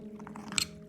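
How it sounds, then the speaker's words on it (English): A single crisp crunch as someone bites into a vegan no-bake cashew cake topped with a raw chocolate layer, close and brief, with soft chewing around it and no talk. "the satisfying crunch of the raw chocolate layer"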